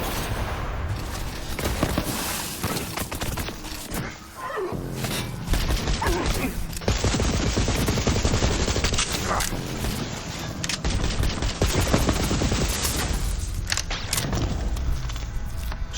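Heavy gunfire and explosions in the chaotic shooter Psycho Krieg and the Fantastic Fustercluck, sustained loud volleys with booms across sixteen seconds, partly under a talking voice.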